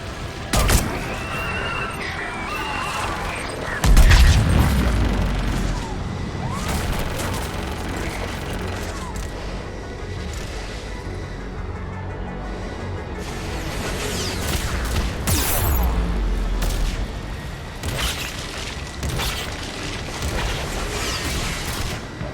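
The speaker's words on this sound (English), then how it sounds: "Firing another salvo." Missile salvo explosions in the video game Mass Effect 3 on Thessia, with loud booming blasts, one heavy impact early and another cluster midway, over a dense roar of gunfire and battle noise.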